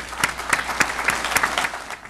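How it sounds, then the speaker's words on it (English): A police department awards ceremony audience applauds the event organizer, Sienna, with a brief burst of moderate clapping, individual sharp claps standing out in an uneven rhythm from a modest crowd. "If we could give her a round of applause."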